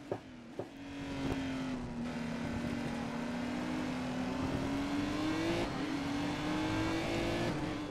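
A race car engine in the GRiD racing game holds a loud, steady revving drone that climbs gradually in pitch over several seconds, with a few sharp clicks at the start and no speech.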